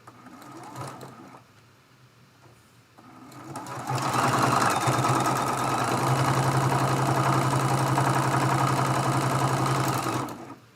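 Sewing machine running a continuous seam across a Dresden Plate quilt block cut from charm packs, starting after quiet handling and then whirring steadily and loudly for several seconds before stopping.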